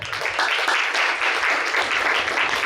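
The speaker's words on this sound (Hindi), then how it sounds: "तो जोरदार तालियां बजाएंगे।" Applause from an audience at a Brahma Kumaris honour ceremony and gathering in Karnal, a dense, even wash of clapping that holds steady and fairly loud for nearly three seconds.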